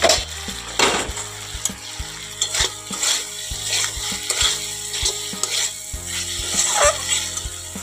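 Curry sautéing in a pan while it is worked with a spoon makes a close, steady sizzle, cut by regular scraping stirs and light taps of the utensil against the pan, with no speech.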